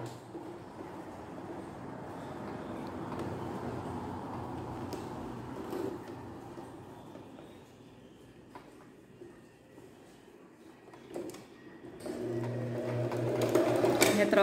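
A sewing machine stitching a blouse, quiet whirring runs broken by pauses and small clicks, with a louder burst of stitching at the end and someone talking throughout.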